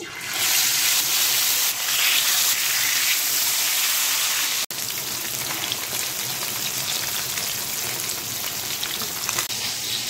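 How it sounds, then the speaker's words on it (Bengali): Katla fish sizzling steadily in hot mustard oil in a pan, a loud, dense, continuous hiss with a brief dip partway through. "এই যে মাছটি বাইচা নিব"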